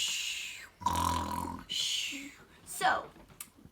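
A voice imitates a roaring snore in a read-aloud children's story with several rasping, throaty bursts separated by short breaks, loud and close.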